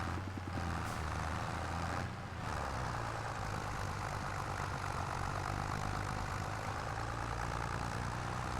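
A small tractor strains under heavy load in Farming Simulator 25, its engine holding a steady, loud, low droning roar with no talk over it.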